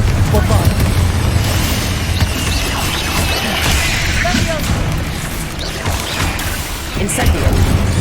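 Bombarda blasting spell explosions in Hogwarts Legacy, booming and crashing in quick succession under a voice calling out spell names, with dense layered impacts throughout.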